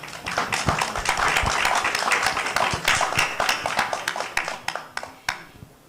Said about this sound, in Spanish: el comandante en jefe Fidel Castro, para quien pido un fortísimo aplauso hoy en su día.